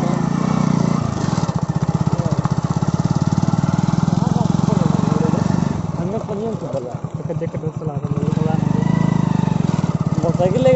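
A motorcycle engine runs loud and close in a forest setting, its steady rumbling throb dipping briefly midway and then picking back up.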